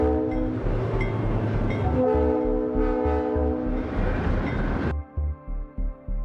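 A train rumbles past on a snowbound mountain line as its horn sounds a long, loud chord, followed by the rhythmic clatter of wheels over rail joints.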